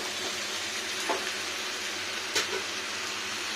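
Black mustard seeds, cumin and a dried chilli fry in hot oil, giving a steady close sizzle with a couple of faint pops and stirring clinks, no voices.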